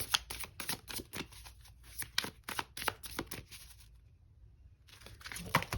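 Tarot cards being shuffled by hand, a close series of crisp riffling and flicking bursts that pause briefly near the end before a few more flicks, with no talking.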